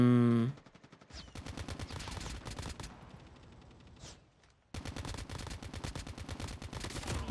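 Rapid automatic gunfire in Call of Duty Mobile, dense bursts of shots near and loud, with a short lull of quieter distant fire before the shooting resumes steadily.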